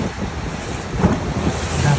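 Rhine Falls in Switzerland roars as a steady, loud, broadband wash of falling water heard from a boat close to the falls amid spray, with gusty wind buffeting the microphone throughout.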